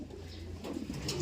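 A pigeon or dove coos softly a few times in a quiet setting, faint and close, over a low background hum, with no talk.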